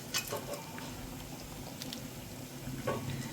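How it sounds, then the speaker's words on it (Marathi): A Konkani-style prawn and potato curry simmers in a pot, giving a soft, steady bubbling patter with faint occasional pops. It is quiet and close, with no talking. "आपल्या या करीला म्हणजे या साराला छान अशी उकळी पण आलेली आहे"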